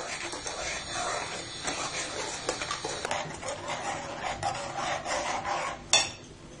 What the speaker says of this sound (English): Keep on stirring it, otherwise it will burn.